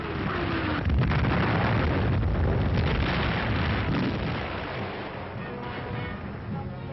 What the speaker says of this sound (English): A shell drops every few seconds.